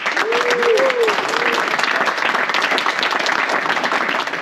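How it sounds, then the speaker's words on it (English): An audience applauds Pierre, the event organizer, at the Stemme Days motorglider gathering in Namur: steady, dense clapping from many hands throughout, with a brief tonal voice-like sound near the start. "we can applaud Pierre by a lot"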